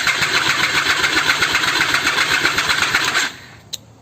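A Triumph Daytona 675 motorcycle engine cranks over with a fast, even whirring rhythm for about three seconds without catching, then stops, followed by a single faint click.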